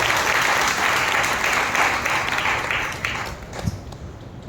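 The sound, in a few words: congregation applauding loudly in church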